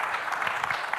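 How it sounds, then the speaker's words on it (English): Audience applause for a panel at the World Governments Summit 2026, a steady, dense patter of many hands clapping in a large hall for the whole second, fairly loud with no voices over it. "A round of applause for this wonderful panel."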